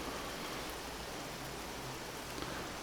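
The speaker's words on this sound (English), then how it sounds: "Got a serious rainstorm going on, guys." Heavy rainstorm in Vintage Story, a dense, steady hiss of rain pouring down, loud and close without breaks or voices.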